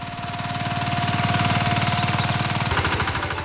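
A VST Shakti 130 DI diesel power tiller engine runs at close range, loud and steady, with a rapid, even thumping chug that shifts slightly in rhythm near the end.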